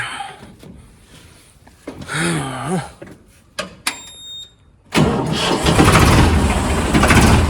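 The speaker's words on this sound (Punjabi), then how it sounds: "ਟਰੈਕਟਰ ਲੱਗ ਗਿਆ ਅੰਦਰ" After quiet shuffling, a brief voice and a few knocks, a tractor engine starts up and keeps running loud and rumbling.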